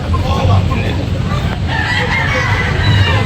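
Rooster crowing at a gamecock sale in Tabunok, Talisay, Cebu, loud and close over a constant background of crowd babble and outdoor noise.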